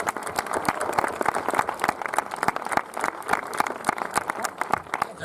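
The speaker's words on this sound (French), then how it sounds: "C'est nous qui vous applaudissons d'ailleurs." An audience at a film premiere applauds with dense, continuous clapping, close and lively, with crowd murmur throughout.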